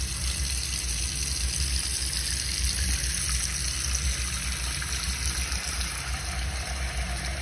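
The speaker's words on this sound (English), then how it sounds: "Let's open the hot water first." Hot water runs steadily from a Delta bathroom faucet, a constant rushing hiss of moderate level that stays even and continuous with no talk over it.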